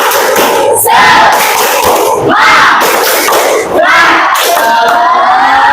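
Classroom of schoolchildren giving a loud group cheer, many young voices shouting together in bursts across the whole stretch with a rhythmic, chant-like rise and fall.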